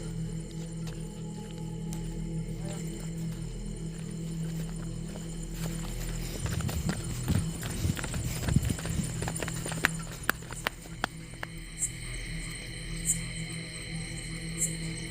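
Horse hooves clip-clopping outdoors near a graveyard at night, a steady run of hoof strikes in the middle of the stretch over a constant background hum, with insects chirping faintly near the end.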